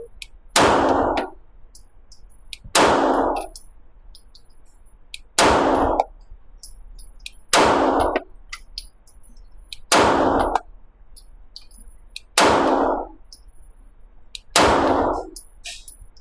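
Seven gunshots from a CZ Shadow 2 Orange pistol, evenly spaced about two seconds apart, each a loud sharp crack with a short ringing tail, close and alone without talk.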